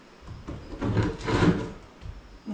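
An old wooden attic door in an abandoned house creaks and scrapes as it is pulled open, a short grinding rub rising and fading over a couple of seconds, heard close and alone.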